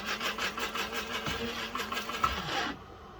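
A coffee grinder whirs steadily for under three seconds, close and moderately loud, with a rasping, rhythmic grinding texture, then cuts off abruptly into quiet.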